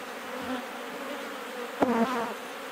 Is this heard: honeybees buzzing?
yes